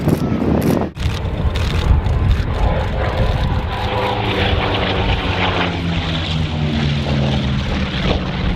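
A Corsair propeller airplane drones loudly and steadily as it passes, its engine tone sliding gradually lower as it moves away.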